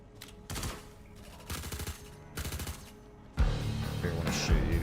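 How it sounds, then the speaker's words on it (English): Bursts of rapid automatic gunfire in the space game Star Citizen, three short rattling volleys with brief gaps, then a heavier, denser stretch of shooting and impacts toward the end. "Was that you shooting, or...?"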